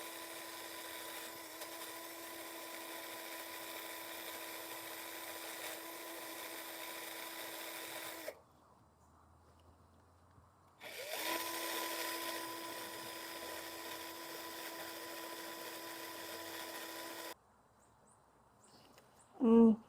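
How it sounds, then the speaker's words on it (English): A power drill spins a wire brush cleaning a BMW Z3 front brake caliper in a steady whirring grind, stopping briefly before running again, then cutting off near the end. "take a wire brush to that and clean this out really good"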